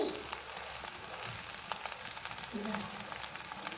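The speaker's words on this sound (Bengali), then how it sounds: "এর মধ্যে এবার আমি দিয়ে দেবো হচ্ছে ঘি" Ghee hitting cooked rice in a pot for chicken tahiri gives a soft, crackly sizzle under faint clinks and stirring scrapes, fairly quiet and close.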